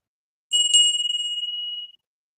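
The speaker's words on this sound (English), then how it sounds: "I ring the bell upon request" A single bell rung once, a clear bright ding with a sharp strike that rings on and fades over about a second and a half, alone in silence.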